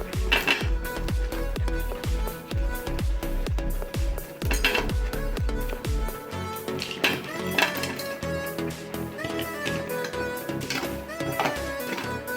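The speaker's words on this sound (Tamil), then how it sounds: "இப்போ நம்ம காயை போட்டுக்கலாம்." Bitter gourd pieces are tipped into a pan and stirred, producing a quick series of rhythmic metallic clanks and scrapes of a spoon against the pan, followed by looser clinking and stirring.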